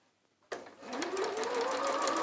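A sewing machine stitching a fabric yo-yo bag starts abruptly after a short quiet moment and runs steadily, a close, loud, whirring motor with a rapid needle chatter that rises slightly in pitch as it speeds up.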